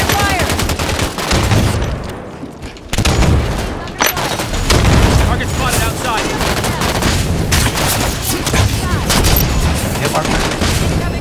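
Rapid gunfire from a video game match of Halo 5 slayer, with the sniper rifle among repeated loud shots and booms that run almost continuously, while players talk over the action.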